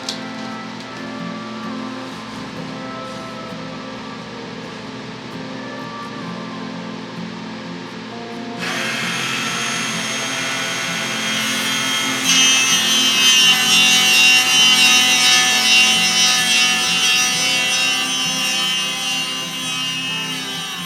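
A router cuts a binding channel, starting as a low motor hum and then breaking into a loud, harsh, sustained cutting roar that grows more intense partway through, close by with no speech.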